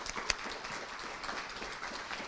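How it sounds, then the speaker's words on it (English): Audience applause for retiring faculty members at an end-of-year celebration: a steady, dense patter of many hands clapping, fairly faint and distant, with one sharper clap standing out early. "So let's give them a round of applause."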